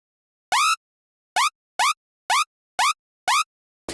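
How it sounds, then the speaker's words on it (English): Screaming bass synth patch from NI Massive, each note opening with a very fast rising-pitch envelope for a lasery zap; six loud, bright, buzzy stabs in an irregular rhythm, playing alone without voices. "envelope will basically create a really fast pitch rising effect on the start of each note"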